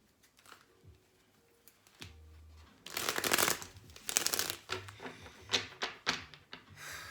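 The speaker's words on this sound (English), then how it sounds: "going to do one more shuffle" Cards being shuffled close by: soft riffling bursts and sharp flutters, a few taps and thumps between them, with no talking.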